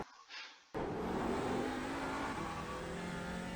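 An Audi TCR touring car in the iRacing simulator roars in after a brief quiet moment, its engine note steady and loud with shifting pitch suggesting a downshift under braking on the Nürburgring.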